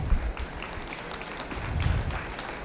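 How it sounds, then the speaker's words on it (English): Audience applause fills a beef heifer show ring at a 4-H/FFA event: steady, dense clapping from many hands, holding at an even level throughout with no voices on top. "let's give them a nice round of applause here today."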